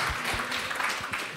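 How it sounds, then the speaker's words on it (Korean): Brief, soft clapping from a church congregation, fairly faint and short-lived with a few low thumps mixed in. "박수 한번 주시죠."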